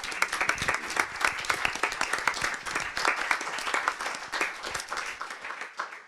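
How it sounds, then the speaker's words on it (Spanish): An audience at a talk on the economy bursts into lively applause, dense steady clapping from a crowd that holds for several seconds before thinning out at the end. "Luis Ramón, un aplauso."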